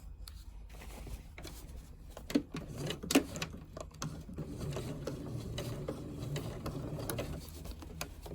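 A sewing machine runs steadily while topstitching about 3 millimetres from a fabric edge, a continuous close mechanical whir with a few sharper clicks and knocks from handling the thick seam area.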